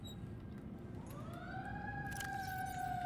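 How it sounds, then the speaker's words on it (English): Emergency vehicle sirens from fire engines and ambulances rise and wail in the distance, a faint sweeping tone climbing then holding steady over a low rumbling background. "something bad is going on in the background. That sounds more like fire engines and ambulance kind of stuff"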